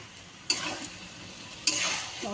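A banana flower curry cooks in ghee with sugar and garam masala, a steady sizzle broken by two sharp scrapes of a spatula stirring in the pan. No voices.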